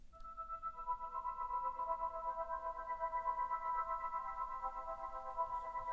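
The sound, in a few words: ambient pad synth processed with Beam granular plugin and reverb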